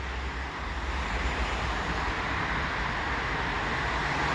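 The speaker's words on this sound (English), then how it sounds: "Here comes the American holiday train." A CPKC holiday train rolls past at Adelaide Street in London, Ontario, with a loud, steady broadband rumble and roar of wheels and cars close by, no talk.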